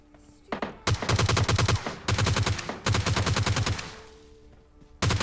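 Bursts of automatic gunfire, including an M16, in PUBG Lite: several rapid, loud strings of shots separated by short pauses, with a final burst at the end.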